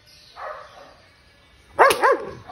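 A Belgian Malinois gives a soft short bark, then after a pause two loud, close barks in quick succession.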